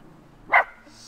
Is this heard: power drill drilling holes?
no